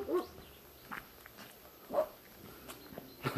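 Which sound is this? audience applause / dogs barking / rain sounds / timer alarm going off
dogs barking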